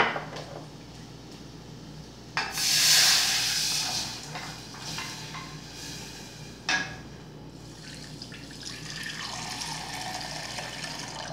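A refogado sizzles in a pan on the stove for a beef liver dish, a steady hiss that swells into louder bursts as the cooking flares up.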